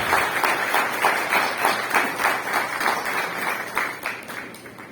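Applause from a seated audience at a pro-life symposium, a steady patter of many hands clapping at moderate distance, with faint voices underneath.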